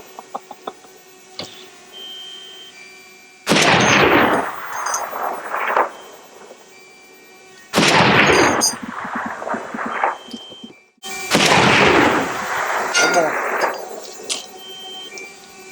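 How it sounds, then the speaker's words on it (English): M2 .50 caliber heavy machine gun firing at a desert shooting range near Las Vegas: three loud, long bursts of booming gunfire with echoing tails, separated by short pauses and a single earlier report. "50 cal, the M2. And then they do 200 rounds through that."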